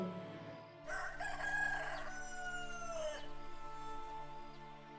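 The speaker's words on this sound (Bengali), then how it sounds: "মোরগটা আবার ডেকে উঠল" A rooster crows once, a long loud rising-then-falling call that begins about a second in and trails off near the end, close by, with faint low hum underneath and no talk.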